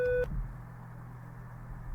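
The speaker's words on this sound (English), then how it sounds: "Who ringing that bell?" A single short electronic bell tone rings for a fraction of a second at the start, then gives way to a faint, steady room hum.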